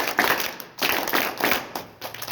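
Clapping for the deputy sarpanch at a village Ramdhun gathering in Pendhari, Nagpur, heard as rhythmic bursts of hand claps rising and fading in waves, moderately near.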